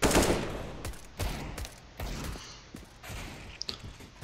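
Gunfire in a Counter-Strike: Global Offensive match, with bursts of shots and several sharp cracks spaced across the clip, fairly loud and close, with no talk over them.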